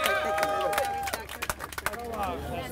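An audience at an elders' gathering breaks into scattered applause for Reverend Jim Lawson, with separate claps and some crowd murmur rising after a voice trails off, fairly quiet and uneven.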